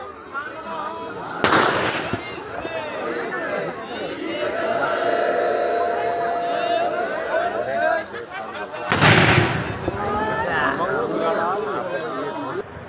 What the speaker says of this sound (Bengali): এখানে মোটামুটি বোম ফাটছে